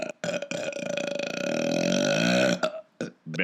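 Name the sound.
colossal belch in audiobook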